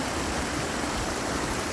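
Clean mountain stream water in the Darma Valley rushes steadily close by, a loud, dense, unbroken hiss of flowing water with no voices over it.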